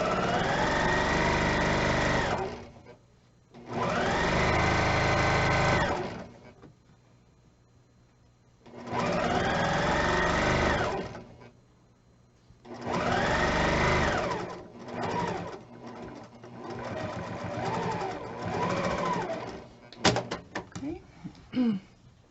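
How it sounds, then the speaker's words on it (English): A sewing machine back-stitches the end of a seam on a triangle pillow, running in several loud bursts of rapid stitching with short pauses between, ending in quicker, choppier runs and a few clicks. "I am going to back stitch at the end just to make sure it stays"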